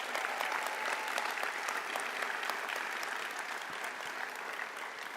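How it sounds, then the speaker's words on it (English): Audience applause for a speaker at a community college commencement ceremony, a dense, steady wash of many hands clapping that holds evenly throughout without talk. "Give our incredible speaker another round of applause."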